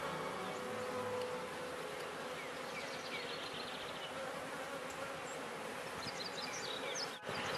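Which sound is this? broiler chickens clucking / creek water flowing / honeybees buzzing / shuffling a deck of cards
honeybees buzzing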